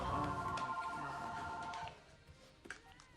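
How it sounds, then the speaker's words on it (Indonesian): Telephone ringing in a film scene, a repeated electronic ring with a steady tonal pattern loud at first, then breaking off into quieter background noise and a few faint clicks. "terdengar suara telepon yang membuat mereka langsung menghentikan aktivitas"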